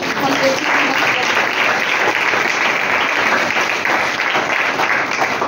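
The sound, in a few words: loud applause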